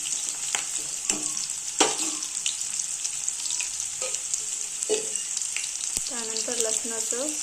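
Onion frying in a pan until reddish brown, a continuous bright sizzle broken by repeated scraping stir strokes and clinks of a spatula, no voices.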